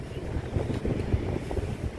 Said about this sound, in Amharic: ዛሬ ፀሐይም አለ ንፋስም አለ፣ የሆነ የተቀላቀለ።